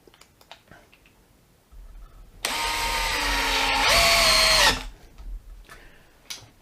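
A DeWalt DCD996 cordless drill drives screws in one short, loud burst of whirring that rises in pitch before stopping abruptly, with quiet handling noises around it.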